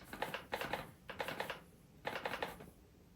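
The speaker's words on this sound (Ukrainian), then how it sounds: "тут якраз хочу цей пакет висипати" Flour is tipped out of a small bag into a storage container, making quiet papery crinkling bursts in three clusters of rapid rustles and taps, with no talk.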